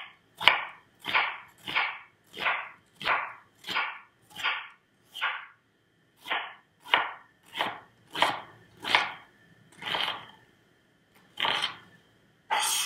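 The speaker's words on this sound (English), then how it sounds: "So I'm not chopping my onions very finely" Knife chopping through onion halves on a cutting board, about twenty crisp even strikes in a steady rhythm with one brief pause midway, close and clear with no talk.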